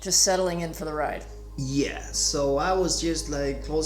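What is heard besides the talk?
No distinct noise like a dog, phone or traffic.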